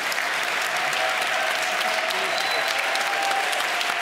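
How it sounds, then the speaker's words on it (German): Sustained applause from an audience at an awards ceremony, a dense, even wash of clapping that holds steady for about four seconds with no talking over it. "Ihr Applaus. Herzlichen Glückwunsch, zwei Preisträger."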